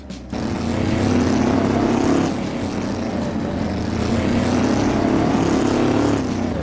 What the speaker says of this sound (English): The startup has that satisfying old-school rumble, and once you get on the throttle, the exhaust note becomes even more aggressive.